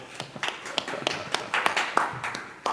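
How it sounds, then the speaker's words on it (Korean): A church congregation clapping during a Sunday worship service, a modest scatter of hand claps that comes in uneven, sharp bursts rather than a steady roar, fairly close and with no talk over it. "박수하겠습니다."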